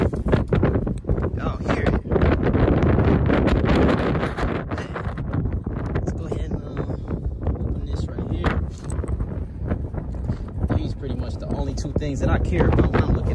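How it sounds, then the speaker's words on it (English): Strong wind buffets the microphone outdoors at a car auction lot, a steady roaring rumble that runs throughout alongside someone talking. "Very windy out here. Y'all hear it?"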